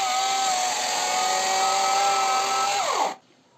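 Power tool whining steadily as it cuts through thin wood of a stingless bee nest during a hive rescue, loud and close, its pitch dropping as the cut finishes and the motor winds down near the end.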